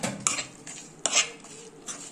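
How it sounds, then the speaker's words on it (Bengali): A spoon clinks and scrapes against a clay pot while mixing oil with turmeric, cumin powder and meat masala for a matka mutton curry, giving a few sharp knocks and short scrapes over a faint background hiss with no speech. "তো তারপর চামচে করে ভালো করে মিশিয়ে নেওয়া হচ্ছে তেল, মশলা"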